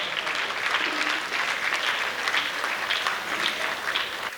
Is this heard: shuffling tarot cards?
no